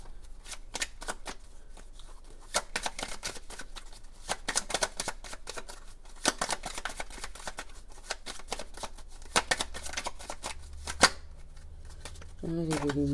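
A stiff Béline oracle card deck being shuffled by hand, with a rapid series of sharp riffling card snaps in bursts, close and crisp, while someone speaks quietly over it.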